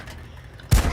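A single heavy gunshot from a tank in the World of Tanks video game, a sudden loud boom in the last third of the clip after a quiet stretch of low background noise.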